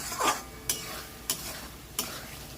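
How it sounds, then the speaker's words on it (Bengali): Spice masala with chilli powder cooks in oil in a pan while a spoon stirs it. A soft background sizzle runs throughout, broken by three or four distinct scraping strokes at a slow, uneven pace. "সুন্দর করে নেড়ে চেড়ে মশলাটা আমি তিন থেকে চার মিনিট কষিয়ে নেব"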